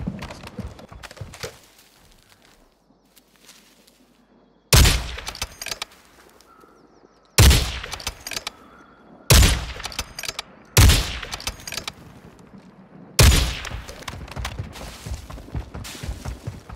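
Gunfire in the video game Call of Duty: Modern Warfare II, several sharp, loud bursts of rapid shots, each followed by a fading tail, with quiet gaps between them.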